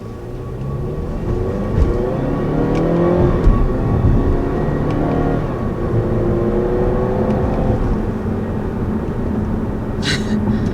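Car engine rising and falling in pitch through several rev sweeps as paddle-shifted gears change, a steady near drone with brief dips at each shift.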